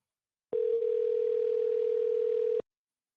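A single unbroken telephone tone, loud and steady for about two seconds while a call waits to connect, then cutting off abruptly into silence.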